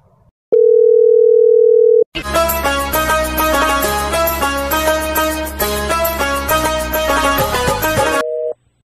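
A phone call is placed: a loud, steady dial tone holds alone for about a second and a half, then a musical ringback tune plays for several seconds before the tone briefly returns.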